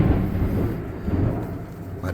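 Thunder from a storm outside rumbles low and steady throughout, a deep continuous roll with a faint hiss of rain on top, fairly loud and without talk.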